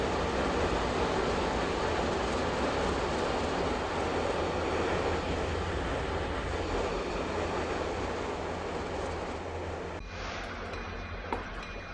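Locomotives in the Roblox rail game Ro-Scale, on the Rez Isle 1991 route, give off a steady, full rumble of engines and rolling stock that holds for several seconds, then thins near the end with a few light clicks.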